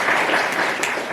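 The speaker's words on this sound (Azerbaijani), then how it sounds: "Alqışlayaq" Applause from an audience at a school gathering with a poet, a steady dense clatter of many clapping hands filling the whole short moment, close and loud, fading slightly at the end.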